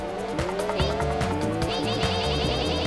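Arcade-style racing car from a PS2 or DS video game, engine droning with repeated tire squeals and skids, steady and loud throughout with no talking.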